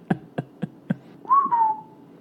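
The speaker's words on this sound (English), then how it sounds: "And he does like another whistle" A person whistles alone, nearby, with four short clipped notes followed by a longer sustained tone that bends slightly and fades.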